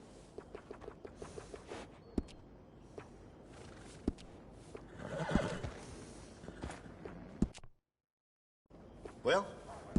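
In the video game Red Dead Redemption 2, hooves clip-clop at a walking pace while a horse snorts and neighs loudly near the middle, with voices talking over the scene before a brief silence.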